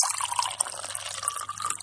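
Cow's milk being poured into a pot, a steady close liquid stream with a bubbling, trickling splash throughout.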